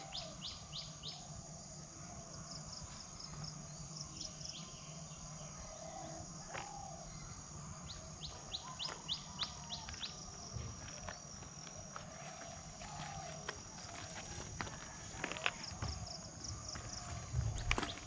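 Birds, including hawks, chirp and call intermittently over a steady insect drone in a sal forest near Bhawal Gazipur station, with occasional soft clicks and rustles nearby.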